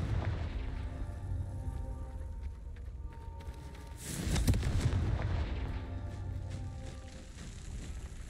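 Explosive blast of the Confringo spell in the Hogwarts Legacy video game: a single heavy boom roughly midway that swells and rumbles before fading, over a low background of game ambience.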